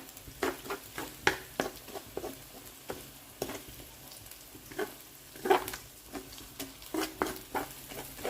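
Egg frying in a wok with fried garlic as it is broken into pieces, soft sizzling under repeated scraping and stirring strokes of a utensil, quiet and close.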